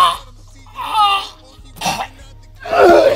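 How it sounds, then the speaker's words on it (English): A man gives a few short coughs and throaty bursts, close and loud, with brief gaps of quiet between them. "cough."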